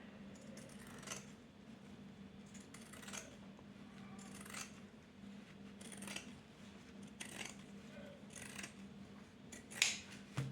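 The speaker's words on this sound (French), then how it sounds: "je vais directement venir mettre un coup de ciseau là pour que ça soit putain droit" Scissors snipping the fraying edge of paper during a Christmas scrapbook binding project, about eight crisp separate cuts at irregular intervals, close and distinct over quiet room tone.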